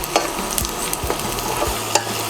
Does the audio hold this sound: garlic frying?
yes